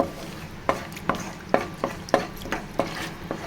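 Whole spices stirred in a pan, including cardamom, cloves, a piece of cinnamon and dried red chillies, with a spoon scraping and tapping the pan in about seven sharp, regular strokes over a faint sizzle, no talking.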